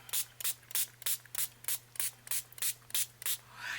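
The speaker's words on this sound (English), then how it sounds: "let's spray these" A spray bottle pumped rapidly about a dozen times over watercolor book pages, each a short airy hiss in an even rhythm, close and fairly quiet.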